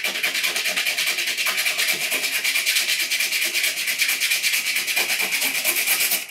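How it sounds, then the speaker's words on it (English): Hand sanding of a board repair with coarse 80-grit sandpaper from a repair kit: steady, close, rapid back-and-forth abrasive rubbing strokes at an even rhythm throughout, loud and continuous with no talking. "I'm gonna go ahead and start with the sandpaper that came with the repair kit."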